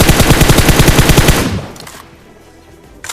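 Video game gunfire rattles in a loud, rapid automatic burst of evenly spaced shots for about a second and a half, then cuts off and leaves a faint tail, with no voices present.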